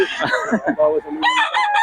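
A chicken clucks and crows up close, with a rooster's bright call near the end and no talk.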